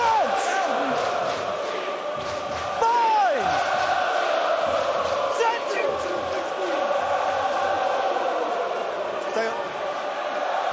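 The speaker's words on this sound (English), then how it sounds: "Biggest crowd of the season at Sandy Park, making quite a racket." A large rugby crowd at Sandy Park during a Saracens versus Exeter match sends up a steady roar with swelling shouts, running beneath a commentator's voice.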